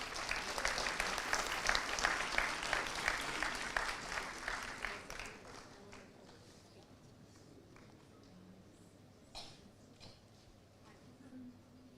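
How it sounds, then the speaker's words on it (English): Audience applause at a live conference as speakers come to the stage, a dense burst of clapping for about five seconds that fades out, leaving a quiet room with a few scattered sounds. "Can we please have a round of applause as the speakers come to the stage?"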